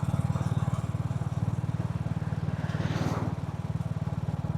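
A motorcycle, either a Royal Enfield or a Moto Guzzi V7, being ridden, its engine thumping in a steady, even low pulse, close and constant with light wind noise over it.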